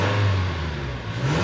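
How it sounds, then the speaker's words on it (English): A 2021 Toyota Tacoma SR's 2.7L four-cylinder engine revs up close by, a steady mechanical roar that swells and eases, with no voices over it. "let's go ahead and hear this 4-cylinder engine and see how it sounds"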